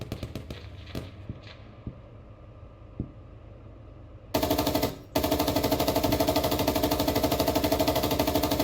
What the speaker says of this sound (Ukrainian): Стріляють десь звідти.